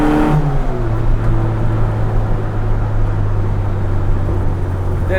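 A 1967 MKII Austin Mini Cooper S engine pulls steadily while underway. There is a brief higher rev at the start, then a loud, sustained low drone with cabin rumble.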